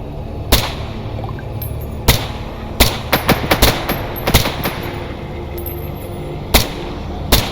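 PKP light machine gun fire in a mercenary shooter game, with sharp loud shots cracking out singly and in quick clustered bursts against a steady low background hum.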